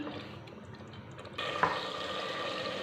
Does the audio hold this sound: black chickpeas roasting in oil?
yes